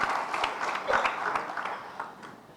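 A crowd claps during a speech by a provincial chief minister, a brief burst of uneven, moderately loud applause with scattered sharper claps.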